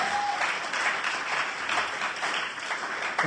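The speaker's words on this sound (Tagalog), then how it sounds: "Palakpak na malakas para sa Diyos." A church congregation claps in praise, steady applause of moderate loudness filling the room for a few seconds with no voices over it.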